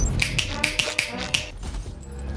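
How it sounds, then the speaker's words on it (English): Finger snap effect played from a soundboard: a quick run of about six sharp, bright snaps in under two seconds, close and crisp, followed by quiet room noise. "Snap my fingers so I die."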